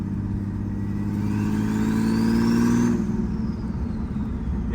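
A turbocharged BMW E36 engine pulls hard under acceleration, a loud steady drone with rising pitch that climbs for about three seconds before easing off, heard from inside the car with no talking.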